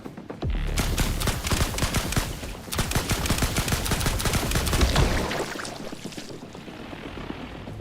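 A chargeable gun in a video game fires in a fast, loud stream of rapid shots for several seconds, broken by a brief pause, then tails off into quieter background game noise.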